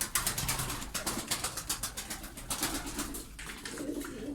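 Turkish tumbler pigeons coo inside a loft, a steady close run of soft repeated calls filling the whole stretch with no voices over them.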